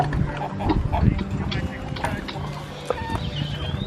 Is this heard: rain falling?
no